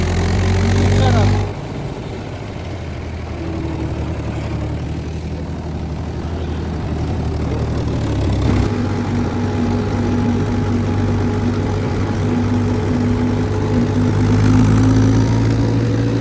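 A Mahindra tractor drives along a paved road, its engine giving a steady, close, droning hum with a low rumble that continues throughout.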